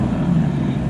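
A Mazda Miata drift car drives a parade lap on a track at Bonneville, giving a steady, moderately loud engine drone heard from inside the car for a brief moment.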